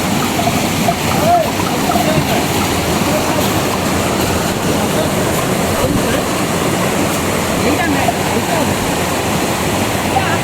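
Water rushes hard down a waterfall in hilly country, a loud, steady roar held close throughout, with voices now and then under the torrent.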